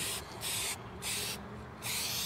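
Three bursts of hissing spray from a spray bottle onto a 2007 Dakota, each lasting about a third of a second, with short pauses between them, close to the microphone.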